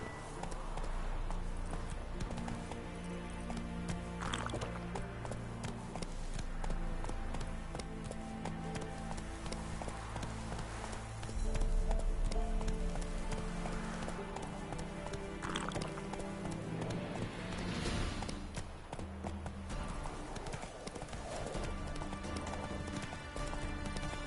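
Roach, a horse in a video game, gallops with continuous rhythmic clip-clop hoofbeats over game music for the whole stretch, steady and fairly loud with no talk.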